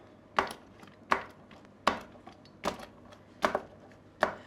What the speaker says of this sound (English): garlic is going to get blended in with the sage with the mezzaluna to help to create a flavor that's sort of more balanced